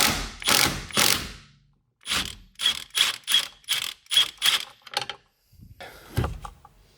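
A ratchet loosens the 16mm center steering wheel bolt on a BMW E92 M3, giving a close series of sharp clicking strokes in short rhythmic bursts separated by brief pauses.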